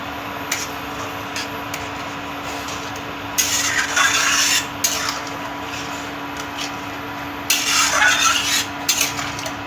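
Dried kasuri methi fenugreek leaves are crushed by hand over a simmering gravy, giving two bursts of dry rustling and rubbing over a low steady hum, with a few faint ticks between them.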